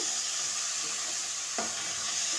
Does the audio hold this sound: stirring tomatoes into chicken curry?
yes